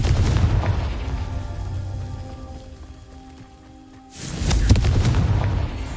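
Confringo explosion spell cast in the Hogwarts Legacy video game: a loud booming blast at the start, a quieter rumbling lull, then a second heavy burst of explosive noise near the end.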